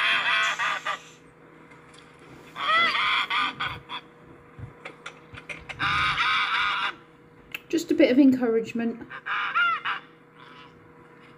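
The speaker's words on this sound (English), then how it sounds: "you've got the noise of the big ducks. Geese." Geese honking loudly and repeatedly near goslings that are hatching, in several drawn-out bursts, with someone talking briefly in between.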